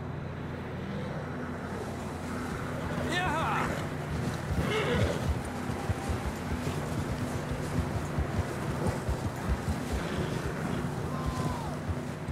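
Horse hooves clip-clop at a gallop in the Red Dead Redemption 2 video game, with a neigh, steady wind noise and brief speech over the rhythmic hoofbeats.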